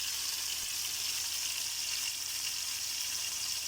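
Onion, tomato and garlic sautéing in a pan for instant tiffin sambar, giving a steady, even hiss of frying with no breaks, heard close and alone.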